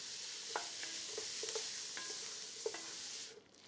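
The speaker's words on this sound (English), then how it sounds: "it's just gonna begin to fry our vegetables" Vegetables fry in a toasted-flour roux for Cajun gumbo, a steady soft sizzle running throughout with scattered light stirring clicks from a spoon against the pot, fading near the end.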